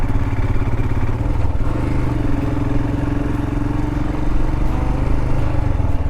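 A Royal Enfield Himalayan motorcycle ridden off-road, its engine giving a loud, steady drone close by with rattling and clatter over rough soil, holding an even pace throughout.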